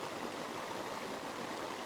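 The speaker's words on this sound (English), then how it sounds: "The fall comes down and we're getting the spray coming off it" A small waterfall in Padley pours down and throws off spray, making a steady, faint, hissing rush of water with no voices.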